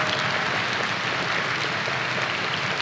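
An audience clapping lightly together during a live talk, a dense, steady patter of many hands at an even level, without speech.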